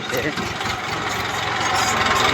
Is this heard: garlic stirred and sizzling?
no